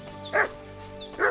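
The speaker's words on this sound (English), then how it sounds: "What's that dog making such a fuss about?" A dog in the Kingdom Come Deliverance II video game barks in a quick run of high, yelping bow-wows, three or four sharp calls spaced evenly and heard clearly with no talk over them.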